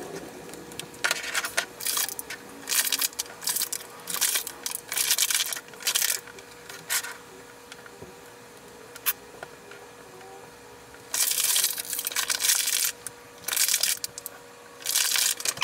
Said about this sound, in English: I got them all out of the packaging